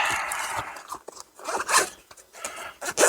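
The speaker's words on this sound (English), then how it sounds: "And the zipper works pretty good too." Zipper on a pocket knife case opened in several short rasping pulls of varying length, close and fairly loud, with brief pauses between strokes.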